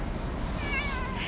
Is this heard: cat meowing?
yes